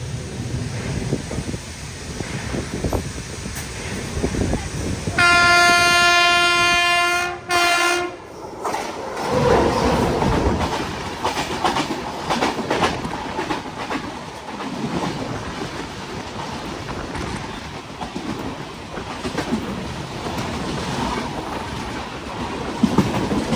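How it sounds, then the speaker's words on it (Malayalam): The Tirunelveli–Bilaspur Express sounds its horn loudly for a few seconds while arriving at a railway station, followed by heavy rumbling and clattering of carriages rolling past close by. "ഒരു ട്രെയിൻ അങ്ങനെ വരുന്നുണ്ട്. തിരുനെൽവേലി ബിലാസ്പൂർ എക്സ്പ്രസ്"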